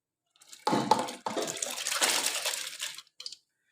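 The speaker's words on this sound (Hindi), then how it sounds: "तो इसमें ऐड करूँगी दाल" Dry lentils pour into a pot of hot water on the stove in a home kitchen, a brief rattling rush and splash lasting a couple of seconds, fairly close, with a small trailing patter at the end.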